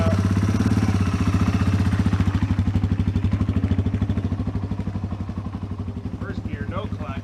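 Yamaha XT225 trail bike engine running at idle after starting, a steady close single-cylinder putter with an even pulsing rhythm, with brief talk near the end.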